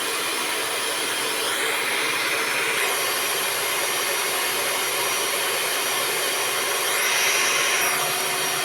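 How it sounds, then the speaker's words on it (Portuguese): An electric stand mixer beats eight eggs for a large sponge cake batter, a loud continuous whirring drone that holds steady throughout with no voices. "A gente vai começar batendo os 8 ovos na batedeira."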